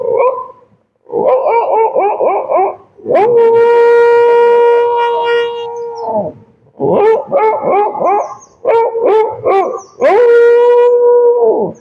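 A man imitates a distant dog howling, loud and close, in a series of wavering yelps that swell into long, sustained howls separated by short pauses.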